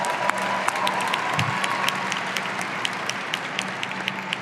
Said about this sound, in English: And for them, a special round of applause.